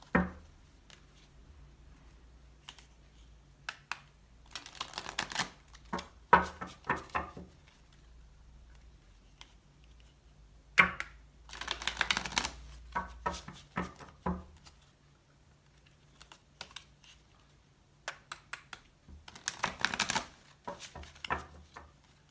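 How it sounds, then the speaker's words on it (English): Tarot cards are shuffled in several bursts of quick riffling and soft slapping, close and fairly quiet, separated by pauses of near silence. "I do have to shuffle the cards."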